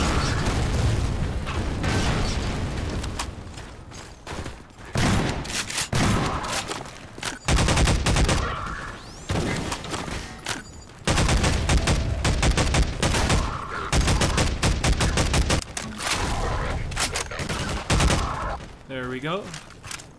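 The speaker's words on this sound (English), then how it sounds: "I heard a grenade come out of one of them and then an explosion and then he just died." Gunfire and a grenade explosion in the video game Half-Life 2 with the MMod mod: dense, loud bursts of rapid shots and booms come in clusters across the whole stretch, with brief gaps between volleys.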